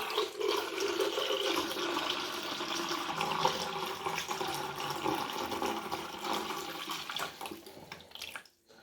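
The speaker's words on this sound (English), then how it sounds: "Now, got our fixer. And then we just pour that in." Photographic fixer being poured into a 35mm film developing tank, a steady, close splashing liquid pour running almost continuously before cutting off abruptly near the end.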